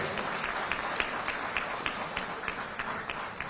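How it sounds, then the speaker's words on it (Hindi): Audience applause at a political event in Mandsaur, Madhya Pradesh, with steady clapping from a crowd and rhythmic peaks as hands beat together, moderately loud and continuous throughout. "जोरदार ताली बजाओ।"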